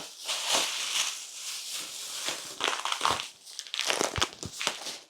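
Close, crinkly rustling of a thin plastic supermarket shopping bag being handled, irregular bursts of crackle and crunch with brief quieter gaps.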